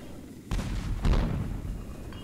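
Cannon blasts in the LEGO Pirates of the Caribbean video game: two heavy booming shots about half a second apart, loud and close, each trailing into a rumbling decay.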